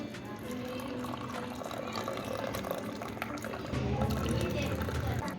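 Water splashed and poured over cups to rinse out any dirt, a steady running-water wash that grows louder near the end, with voices talking over it.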